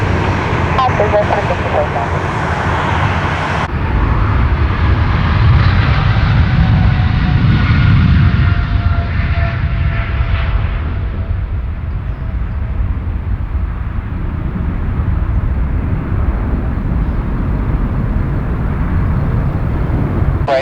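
A Qantas airliner at Sydney Airport produces a loud, sustained jet roar that swells and then slowly fades across about twenty seconds, with radio chatter partly heard over it.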